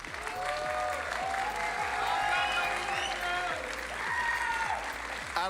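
Big arena crowd cheering and applauding for Paravision, champions of the Blast Bounty Season 1 2026 CS2 tournament, a dense, loud and continuous roar of clapping with whistles and shouts rising over it.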